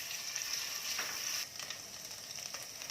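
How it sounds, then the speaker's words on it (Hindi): Garlic and ginger paste frying in a few tablespoons of hot oil, a steady bright sizzle with faint crackles and a brief stir partway through, close and alone. "अब मैं इसमें 3 to 4 टेबलस्पून ऑयल डाल के इसके अंदर मैं लहसुन और अदरक का जो मेरे पास पेस्ट है इसको हल्का गोल्डन कर लूँगी"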